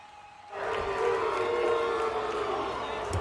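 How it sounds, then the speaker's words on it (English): Crowd noise from an EverQuest Project 1999 arena duel between a druid and a monk: a sustained roar of many voices swells after a quiet start and holds loud and steady, with no distinct speech over it. "The crowd booing."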